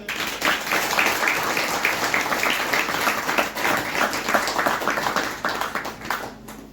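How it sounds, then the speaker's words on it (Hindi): Loud, dense applause from a crowd at a Christmas celebration programme, continuous rapid clapping from many people that holds steady for nearly seven seconds before starting to thin out. "जोरदार ताली बजा देंगे।"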